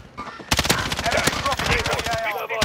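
Rapid automatic gunfire in the Call of Duty Warzone video game, a dense sustained burst of loud close shots that starts abruptly and runs nearly to the end, with a voice briefly heard beneath it.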